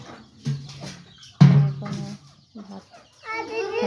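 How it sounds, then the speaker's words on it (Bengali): Farm chickens cluck in short bursts near and fairly loud, with a louder squawk midway and higher-pitched chirping calls toward the end, the hens gathered around feeding time. "দেখেন মাশাআল্লাহ আমাদের অনেকগুলাই মুরগি আছে।"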